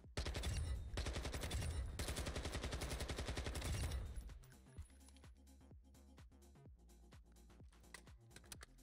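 Rapid gunfire from a sniper rifle build in Warzone 2.0, a loud dense burst for about four seconds, then a quieter stretch of separate sharp shots at an irregular rhythm.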